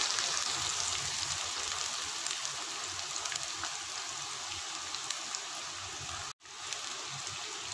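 Chopped onion sizzling in hot oil with ginger garlic paste for a curry leaf chicken dish, a steady dense crackling hiss that barely breaks, with one short dropout near the end.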